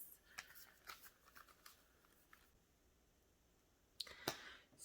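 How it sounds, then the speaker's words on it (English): Quiet riffling and clicking of tarot cards being shuffled in short bursts, with pauses between, close by and faint. "So right now I'm shuffling for the spiritual space."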